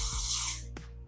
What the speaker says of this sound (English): I'm going to add 1 full cup of rice to this.